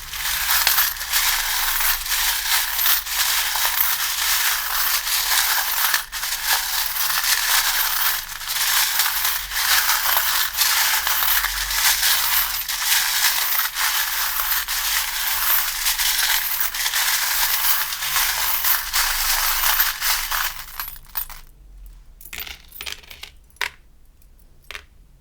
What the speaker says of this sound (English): Let's move on to your charms and dice as well.